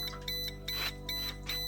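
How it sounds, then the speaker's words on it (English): A MOCREO WiFi water leak detector alarm going off after sensing a few drops of water, sounding as a steady series of repeated high electronic beeps in evenly spaced bursts, clear and fairly loud. "I can hear that alarm"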